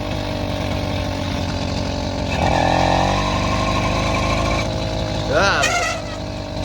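A small two-stroke engine fitted to a bicycle buzzes steadily and loudly throughout, its pitch rising and falling as it revs, with a brief higher whine near the end.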